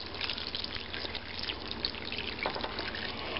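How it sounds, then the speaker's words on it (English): Water pours steadily into a soup pot of hamburger vegetable soup with canned Clamato, a continuous splashing trickle heard close and alone. "I'm putting in 4 cups of water"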